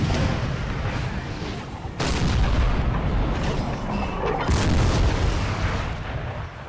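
Twelve-pounder cannons firing in Napoleon: Total War, loud booming reports landing at intervals over a constant battlefield rumble, two sharp blasts standing out clearly above the din.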